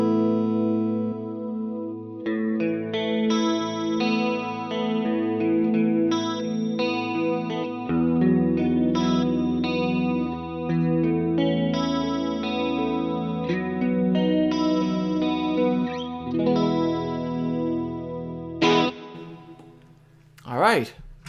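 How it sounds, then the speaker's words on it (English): An electric guitar with a chorus effect on a Fractal Audio AX8 plays a shimmering, continuous run of melodic notes and chords up close, ending in a few brief clicks. "As you can see, I've got some chorus here."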